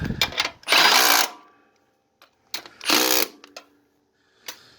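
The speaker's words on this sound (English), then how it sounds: "This one I'll have to ratchet wrench on there due to the angle. We can run this one in too." A power tool such as a ratchet wrench runs a bolt in during a Honda Civic 5-speed swap. Two loud, short whirring bursts come up close, with small clicks and taps between them and no speech.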